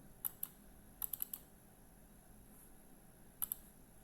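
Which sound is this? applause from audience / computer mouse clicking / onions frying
computer mouse clicking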